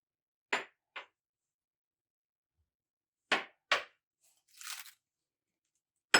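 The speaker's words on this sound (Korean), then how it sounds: "먼저 양배추를 채를 썰어 주는데요" A knife cuts cabbage into strips on a cutting board in a home kitchen. Crisp, close crunching cuts come in separate bursts: a pair, then another pair, then a softer scraping rasp, with quiet gaps between them.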